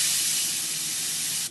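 An electronics duster spray can releases one continuous loud hiss of compressed gas, close and steady for over a second before cutting off, with no talk.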